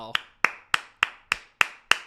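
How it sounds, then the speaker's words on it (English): A slow, deliberate round of applause from what sounds like a single person: seven sharp, close hand claps at a steady, even pace, each ringing briefly before the next. "Round of applause for that, guys."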